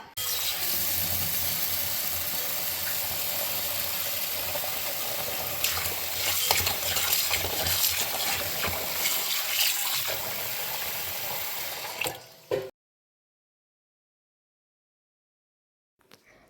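Steady rushing water runs continuously for about twelve seconds, like a tap filling a bowl of lentils to soak, then stops abruptly into silence.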